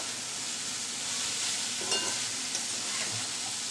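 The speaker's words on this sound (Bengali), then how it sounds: "এই তেলের উপরে আমি ভাজিটা করে নিচ্ছি অল্প তেলের উপর" Radish bhaji with shrimp frying in a little oil, a steady soft sizzle with occasional stirring clinks and scrapes, close and continuous with no talk.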